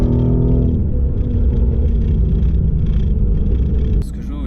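A Mercedes-AMG GT R's 585-horsepower engine roars loudly and close, holding a dense, steady rumble as it accelerates, then cuts to a sharper burst near the end.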